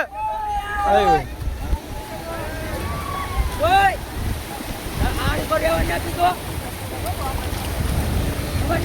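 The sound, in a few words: sea waves washing ashore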